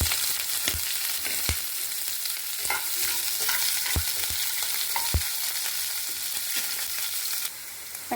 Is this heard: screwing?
no